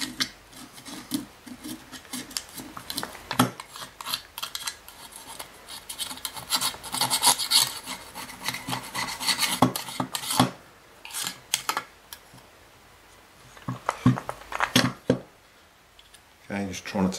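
Excess grey silicone is lightly scraped off a Kirby vacuum fan part, giving bursts of close, rasping scrapes in uneven rhythm with short pauses between strokes, under occasional talk.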